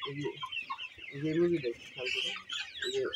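A flock of Sonali chickens, some of them weakened by paralysis, clucks and squawks repeatedly at close range, with a busy cluster of calls that rise and fall and a voice talking faintly underneath.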